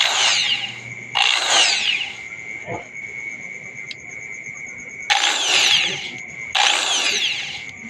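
A power drill fitted with a 1.8 drill bit whines in loud, close bursts of a few seconds each, separated by pauses, with a steady high tone continuing between the bursts and no talking.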